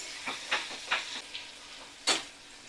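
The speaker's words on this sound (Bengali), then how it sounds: "পেঁয়াজটা ভালো করে আমি ভাজা করে নিচ্ছি। তো মিডিয়াম ফ্লেমে রেখেই" Sliced onions fry in a pan over a medium flame: a quiet sizzle broken by several short scraping stirs, the last one sharper and louder.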